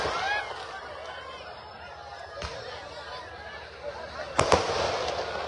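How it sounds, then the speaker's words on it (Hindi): Firecrackers set off at an outdoor political public meeting: sharp bangs and crackles, the loudest bursts near the end, over crowd chatter and background voices. "अभी हम अच्छे को फोड़ने के लिए आए हैं, तो ये पटाखा फोड़ रहे हैं।"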